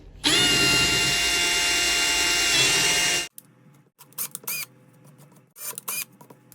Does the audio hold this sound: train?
no